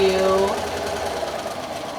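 A sewing machine runs steadily while stitching a seam along folded fabric, a continuous mechanical whir lasting the whole moment, with a brief tonal hum near the start.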